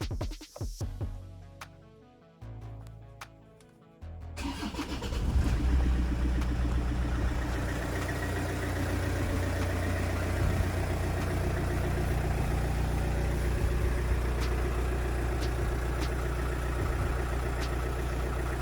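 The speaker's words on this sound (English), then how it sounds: "Oh, that sounds great, a proper old diesel." An old diesel engine in a Rover 25 Commerce van cranks and starts after a few seconds, then settles into a steady, loud, rumbling idle that runs on without a break.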